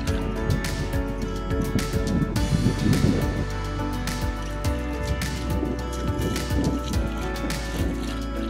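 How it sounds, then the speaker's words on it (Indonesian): Steady rain pours onto surfaces outdoors at a site where a Yanmar TF-85 diesel engine is being installed, forming a loud, dense patter that continues without a break. "Dan ternyata akhirnya hujan juga ya."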